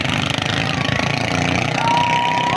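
Racing boat engines run during a bangkarera boat race at Barangay Doro, Malimono; the engines have stacked exhausts and sound slightly off. They give a loud, continuous rough mechanical drone with a rising whine near the end.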